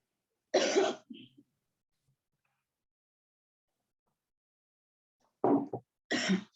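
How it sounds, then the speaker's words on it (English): A single harsh cough bursts out, followed by a smaller throat-clearing sound, then quiet before a couple of more coughs near the end. "I got a bad cough."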